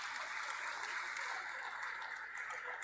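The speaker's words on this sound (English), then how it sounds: "One more round of applause, ladies and gentlemen." Audience applause at a startup event hall welcoming a former President of India, an even, continuous wash of many hands clapping heard from a distance, with no talk over it.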